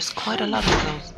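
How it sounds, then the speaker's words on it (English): A door slammed shut by a brother somewhere in the house, a single dull thud heard in the background beneath continuous nearby speech. "he slams the doors quite a lot"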